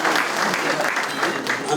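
Audience at a scholarship gala applauds standing donors, a dense wash of clapping heard under a speaker's voice.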